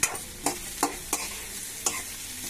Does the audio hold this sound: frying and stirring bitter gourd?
yes